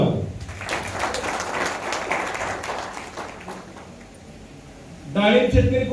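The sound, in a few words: audience applause at farmers' meeting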